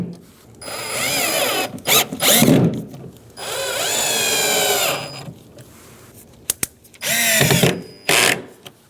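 A power drill drives Phillips head screws into the door panel of a 2007-2015 Mazda CX-9, giving several loud close whirring bursts that rise in pitch, separated by pauses and small clicks.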